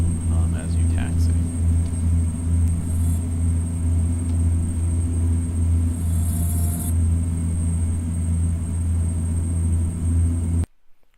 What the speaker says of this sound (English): A bit of rumbling and clicking also as you taxi.